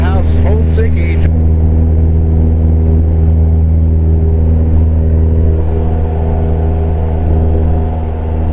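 A CubCrafters Carbon Cub SS engine drones loud and steady as the aircraft climbs after takeoff, a constant heavy rumble with a brief voice at the start.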